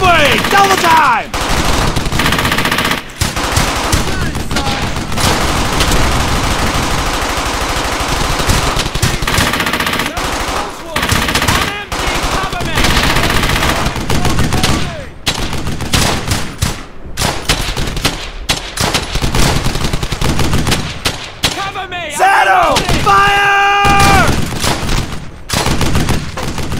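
Heavy automatic gunfire from a World War II battle in the video game Brothers in Arms: Hell's Highway, loud sustained bursts of machine-gun and rifle fire rattling almost nonstop, with shouted voices briefly cutting through.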